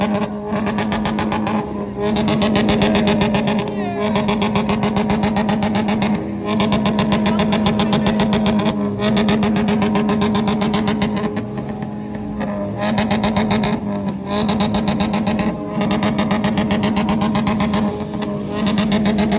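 A modified car known as Dirty Harry, driven on 14 August in Pakistan, runs with a loud, steady engine drone and repeated revving surges for about twenty seconds, with no talking.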